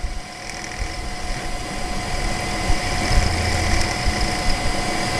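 Power drill boring steadily through a hole, a continuous mechanical whine with a faint hum, holding an even level throughout and rising slightly near the end, with no talking.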